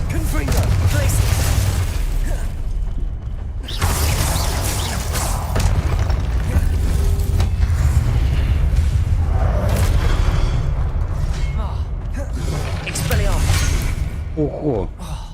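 Booming spell blasts from the Confringo fire spell in the video game Hogwarts Legacy, loud explosive bursts and rumbling impacts under near-constant spoken incantations and game noise.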